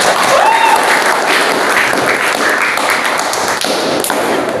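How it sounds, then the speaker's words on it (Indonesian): Classroom of students clapping for a classmate, a dense steady patter of many hands filling the room at close range, with no voices over it. "Kita beri tepuk tangan pada teman kita"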